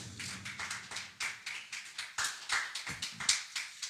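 A church congregation claps to acclaim the Lord at a French-language sermon, a lively rhythmic burst of many hands beating in an uneven, quickening pulse, close and fairly loud, with no talking over it.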